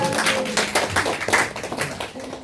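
An audience clapping at a talk on choosing a happy life, brisk and fairly close, a few seconds of uneven claps with no one speaking over them.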